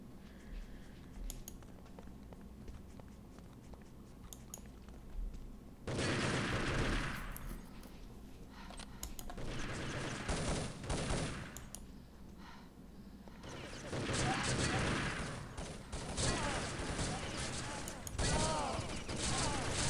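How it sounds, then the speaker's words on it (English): Bursts of AK rifle gunfire in a competitive online shooter match between national teams, with loud volleys around the six-second mark and again later, over steady game ambience and occasional talk. "In comes the AK, and Simca, Keon and ZMB taking them out."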